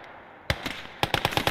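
Maxim machine gun firing in the video game Call to Arms Gates of Hell Ostfront, loud sharp bursts: a short run of shots, a brief pause, then a faster rapid string of close reports, no talk.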